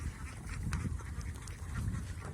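A flock of domestic native ducks raised for meat quacks continuously, a dense overlapping chatter of many birds heard at moderate distance with no one speaking.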